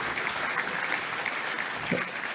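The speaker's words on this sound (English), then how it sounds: "So she deserves an extra round of applause." Warm audience applause at a civic speaking event, continuous dense clapping near and loud, with a faint voice surfacing briefly near the end.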